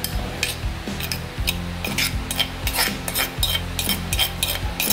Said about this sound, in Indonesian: setelah itu kita goreng bumbunya